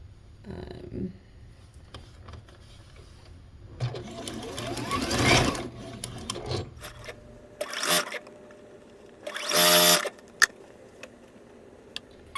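A sewing machine stitches quilt block pieces in several separate runs, each a close, steady mechanical whir with pauses and small handling clicks between, and no voices.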